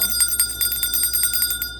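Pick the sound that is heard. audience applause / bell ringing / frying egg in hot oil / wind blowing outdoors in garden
bell ringing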